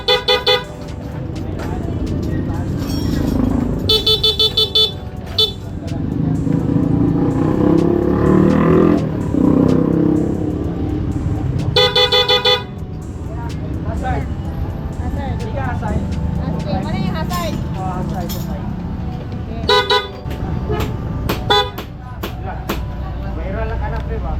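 A Honda Click 125 scooter horn gives several short, loud honks spaced through the stretch, over a low engine rumble and traffic, with people talking between the blasts.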